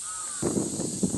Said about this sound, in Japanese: カラスも鳴いています。